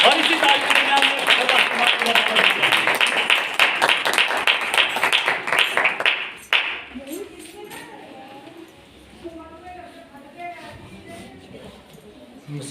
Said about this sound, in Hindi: यीशु मसीह के लिए जोरदार तालियां